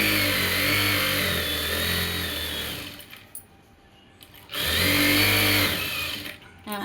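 Sewing machine stitching elastic onto a 3-year-old baby's pant, running in two steady whirring bursts separated by a short quiet pause, loud and close with no talk.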